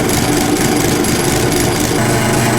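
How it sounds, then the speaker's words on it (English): A small Chinese-made metal lathe turns hex steel stock down to round for a 50-ton axle puller, giving a loud, steady, harsh rattling chatter that continues unbroken and close up. "Going from hex to round always rattles a lathe pretty hard"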